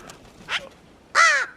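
Crows cawing on a winter day, two harsh calls about half a second apart, the second louder and longer, close by against quiet outdoor background.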